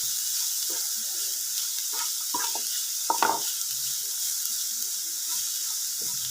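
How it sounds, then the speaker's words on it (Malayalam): Food sizzles steadily in a hot pan while a spoon scrapes and stirs in a few brief knocks, one sharper clatter midway, with no voices. "നന്നായിട്ടൊന്ന് ഇളക്കി കൊടുക്കാം"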